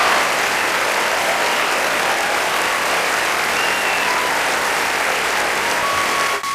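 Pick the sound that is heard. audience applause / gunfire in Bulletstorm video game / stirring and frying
audience applause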